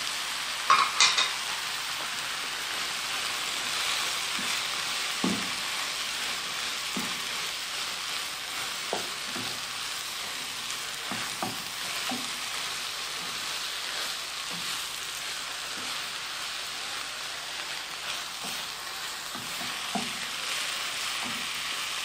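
Cumin, ginger, turmeric, pepper and paprika being stirred together in a pan, with a steady soft sizzle and scattered light scrapes of a utensil knocking through it, close and moderately loud.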